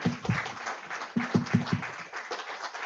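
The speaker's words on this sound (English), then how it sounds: "Can we have a round of applause for working?" Scattered applause at a community event for residents serving as working group members, a thin, uneven patter of claps from a modest crowd in a room, rising and thinning over a few seconds.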